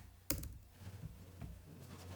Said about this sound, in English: typing this command on the PC